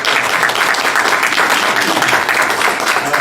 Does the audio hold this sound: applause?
yes